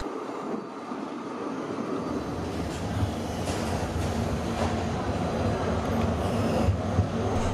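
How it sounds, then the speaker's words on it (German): Hannover Stadtbahn line 10 tram pulling away from a stop, heading west: a steady rolling rumble that builds as the car gains speed, with faint rail squeals and clatter, heard from inside. "Wir starten nun unsere Fahrt und verlassen die Haltestelle in Fahrtrichtung Westen."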